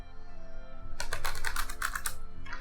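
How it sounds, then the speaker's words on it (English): Tarot cards being shuffled close up, a quick burst of crisp riffling clicks and flutters lasting under two seconds over a faint steady background hum. "I am going to be shuffling on camera, so I apologize for the sound."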